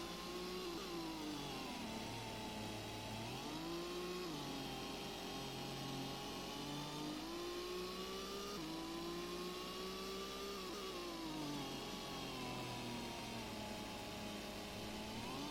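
A Dodge Viper race car engine from Gran Turismo holds a steady high drone through a night endurance race on SS Route 11, its pitch rising and dipping with gear changes and throttle, loud and continuous with no talk.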